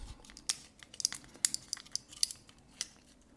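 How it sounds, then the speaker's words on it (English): New parts for a clickchanger build are pulled from their packaging, giving a quick run of sharp crinkling and tearing plastic crackles, close and fairly loud over about three seconds. "now just need to unwrap the new parts"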